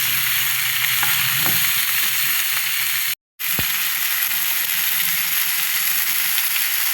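Chopped tomatoes and cashews frying in a pan, a continuous close sizzle with occasional stirring clicks and a brief gap partway through, no talk.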